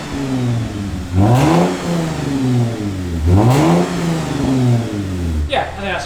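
An American truck's V6 engine rises through two strong revs with a raspy, fairly loud tone, settling back to idle between them and beginning a third rise at the end.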